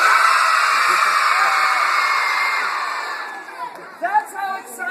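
A crowd of schoolchildren screaming together as loud as they can inside a school, a sustained piercing roar that fades out, followed by scattered shouts and whoops.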